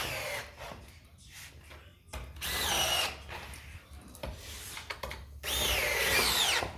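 A power drill drives wood screws into a cube bench table during assembly, with several short bursts and two longer whirring runs that rise in pitch as the screws tighten, close by with quiet pauses between.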